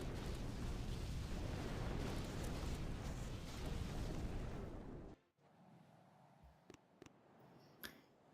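Rocket launcher explosions in a video game: a sustained, dense roar of blasts fills the first five seconds, then cuts to near silence broken by a few faint, sharp pops.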